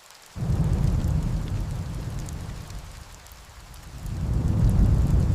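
Rain starts suddenly and pours down as a steady, dense hiss that eases slightly, then swells louder again toward the end, with no voices.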